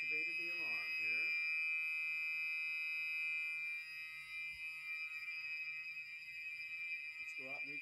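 A building fire alarm blares during a drill in Bath, Maine, a loud, continuous high electronic tone running throughout, with someone speaking briefly at the start and again at the end.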